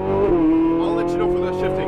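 A Ferrari 458 Italia engine at full throttle on a race track, a loud, sustained, rising engine note with a voice talking over it.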